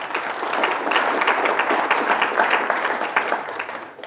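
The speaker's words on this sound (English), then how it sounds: "the city staff deserves a round of applause" An audience at a city's State of the City address breaks into steady, dense applause, many hands clapping together at full strength for several seconds before fading slightly at the end.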